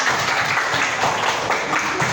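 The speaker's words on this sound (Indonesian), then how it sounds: "Tepuk tangan." Classroom applause from a group of students, steady dense clapping filling the whole stretch at close range, with no talk over it.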